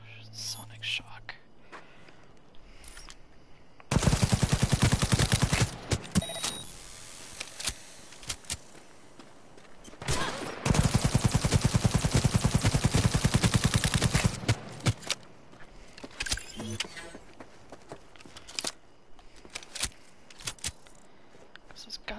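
Cyberpunk 2077 gunfire rattles in two long, loud automatic bursts of rapid shots, with scattered single shots and a faint voice in the quieter stretches between.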